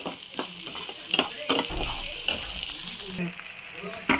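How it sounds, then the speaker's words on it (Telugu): Ginger garlic paste frying in hot oil for a prawn pickle, a close crackling sizzle with repeated scraping stirs and clinks of a spoon in the pan; a voice speaks faintly underneath. "మన అల్లం వెల్లి పేస్ట్ చక్కగా ఇలా పచ్చి వాసన పోయేటట్టు వేయించుకుంటున్నామండి"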